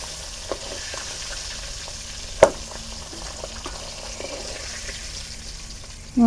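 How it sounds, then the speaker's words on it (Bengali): Fish heads sizzle steadily in hot oil, a dense, even crackle with scattered pops and one sharp clank partway through. "তিনটে মুড়ো ছিল, মুড়োগুলো ভেজে নিয়েছি।"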